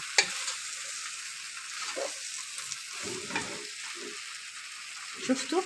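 Meat sizzles steadily in a pot as the base for an okra stew, with a spoon scraping and stirring through it in soft, irregular strokes.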